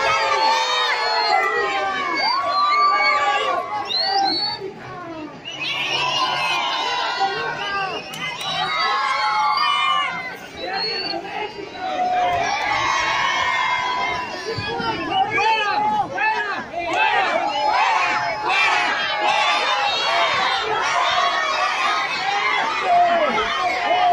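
Crowd at a market celebration for the 16th of September Mexican Independence Day, a dense mass of voices shouting and cheering continuously, loud and close, with excited high-pitched cries swelling throughout.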